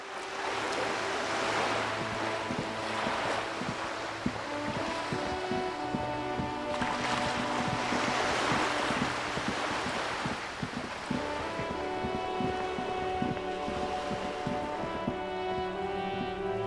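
Waves surge and wash around a small islet in the Disco Elysium video game, a soft, steady roar of surf with rolling swells and a faint musical drone beneath.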